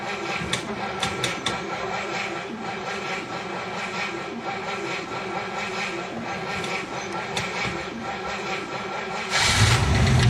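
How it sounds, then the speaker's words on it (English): A 1955 DeSoto with an old 6-volt battery, cranking steadily for a long stretch after weeks idle, then catching and starting with a louder rush at the end, close by. "After about 6 weeks sitting here idle, that old 6-volt battery has held up and it started."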